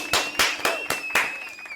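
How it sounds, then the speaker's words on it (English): A few people clap for Angel after her WNBA double-double record, about five or six sharp, close claps in a loose rhythm over a steady whistling tone, no talking. "let's get claps for Angel"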